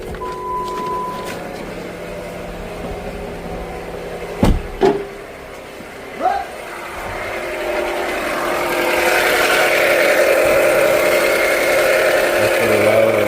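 A Jeep Patriot engine runs with a strange noise near the pulleys and belt, a steady mid-pitched drone with a few sharp knocks partway through, then growing louder and brighter as the listener moves closer.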